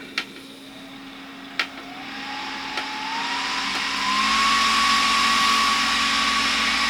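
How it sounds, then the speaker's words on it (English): A Titan TTC-SC60(B) caravan ventilation fan runs with a steady whooshing hum that rises in pitch and loudness as its speed is turned up, with a few faint clicks from the controls early on. "So it's turned on now, you can see that there, the light's on and the fan is rotating."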